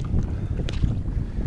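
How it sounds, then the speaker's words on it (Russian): Small boat with a hybrid outboard motor on a spring-flooded river, running steadily under strong wind buffeting the microphone, with water wash and a continuous low rumble throughout. "катается гибридным мотором"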